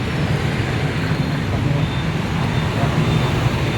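Dense motorbike street traffic in Ho Chi Minh City makes a steady, loud roar of engines nearby, with no talking.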